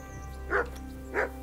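A dog in the medieval role-playing game Kingdom Come: Deliverance gives two short, evenly spaced barks at moderate distance over a low ambient game background.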